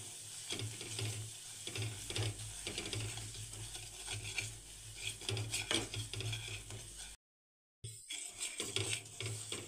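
Red chili powder, coriander-cumin powder and garam masala are stirred in hot oil in a pan, giving a soft continuous sizzle with scraping, clicking stirs and one brief silent gap. No one speaks.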